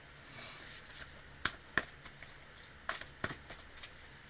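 Soft riffling of tarot cards being shuffled, with a few sharper snaps and flicks standing out, close and fairly quiet, no voices.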